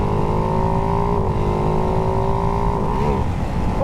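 Ducati Hypermotard 698 single-cylinder motorcycle being ridden, its engine droning steadily and loud with rising pitch near the end as it revs.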